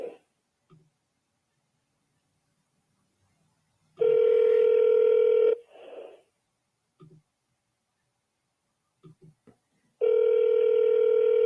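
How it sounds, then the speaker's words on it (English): A voicemail recording tone sounds as a loud, steady electronic beep held for about a second and a half, repeated once after a gap, with a few faint clicks and brief noises in between. "At the tone, please record."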